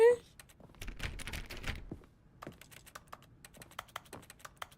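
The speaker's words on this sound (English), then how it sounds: "Why does everything sound like I'm hitting a keyboard?" Rapid, soft clicks like keys being tapped on a keyboard, from the video game The Stanley Parable, come in uneven bursts, with a person talking quietly in between.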